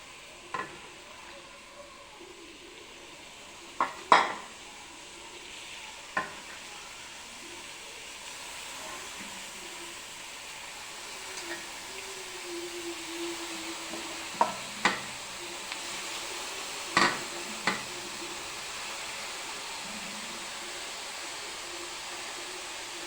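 Beef frying in a pan with onions and masala gives a soft, steady sizzle throughout, with a few sharp scraping clinks from stirring, under faint room noise.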